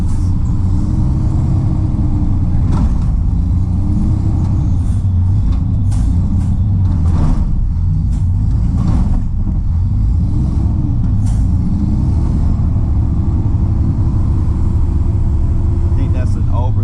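A truck engine idles and revs steadily from inside the cab, the throttle capping out around 1400 RPM so the drone holds flat, with a few clicks and taps over it and someone talking at times.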